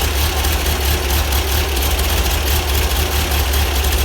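A rebuilt engine with a resurfaced flywheel, heavy duty valve springs, chromoly retainers and solid shaft rockers idles steadily with a loud, even low rumble and no other sounds.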